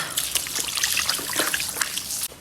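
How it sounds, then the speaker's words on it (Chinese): Beef is rinsed under running water, giving a steady close trickle and splash from the tap with brief spatters. The sound is fairly soft and ends abruptly after a couple of seconds. "先把这个牛肉冲洗一下，"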